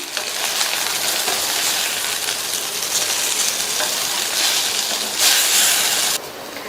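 Brinjal pieces coated in spice powder fry in a pan while being stirred, a continuous close sizzle with soft scraping and a brief louder burst of hissing near the end.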